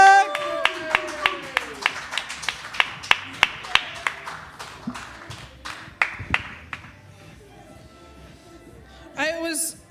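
Scattered, sharp handclaps ring out from a small live comedy audience, about a dozen distinct claps of uneven rhythm, while a host talks over them. A brief burst of voices comes near the end.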